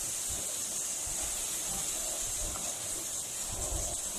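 Ginger and garlic paste frying with spices in a pan for a bitter gourd and beef curry: a constant, even sizzling hiss, close and moderately loud, with no talking.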